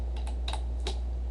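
Keys clatter on a computer keyboard in a few short, uneven bursts, close and alone over a steady low hum with no talking.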